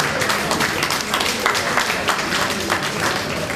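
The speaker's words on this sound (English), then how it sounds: "Let's give the chairman another round of applause, ladies and gentlemen." Thick, continuous applause from a crowd at a Warri community anniversary gathering, honoring the chairman, steady and loud with no pauses.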